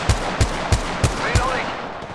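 Gunfire in Apex Legends Mobile: five evenly spaced heavy shots about a third of a second apart, punchy and close.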